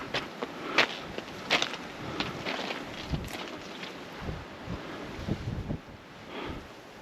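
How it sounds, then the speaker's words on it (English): Gusty wind buffets the microphone in uneven bursts at a former Thor missile site, RAF North Luffenham, with rumbling swells and a few scuffing sounds, and no voices. "So windy."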